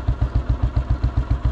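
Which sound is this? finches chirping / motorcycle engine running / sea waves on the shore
motorcycle engine running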